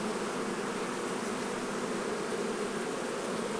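Honey bees swarm and buzz around an open summertime beehive, a dense, steady drone filling the air up close without a break.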